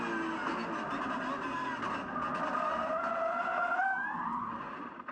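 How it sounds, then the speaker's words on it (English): A Porsche GT3 Cup race car at Canadian Tire Motorsport Park skids with locked brakes. Tire squeal and roar hold steadily loud for about five seconds, then ease off at the very end. "He got it locked up and he got it stopped in time before hitting the tire wall."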